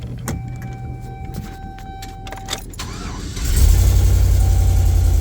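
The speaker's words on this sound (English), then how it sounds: "Truck runs." Classic-body GM pickup from the 1999 to 2007 range, its starter cranking briefly before the engine catches and settles into a loud, steady idle close to the microphone.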